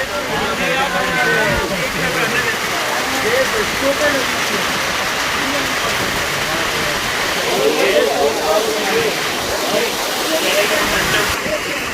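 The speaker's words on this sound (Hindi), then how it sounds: "और ये बड़ी तूफानी बारिश हो गई है।" Heavy stormy rain pours steadily in Kumrat Valley, a loud continuous wash of water with voices talking over it throughout.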